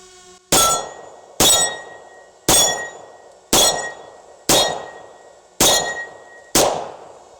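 Seven sharp, evenly spaced reports from a HiPoint .45 caliber pistol fired at targets, each loud crack followed by a short ringing decay, with no talking between shots.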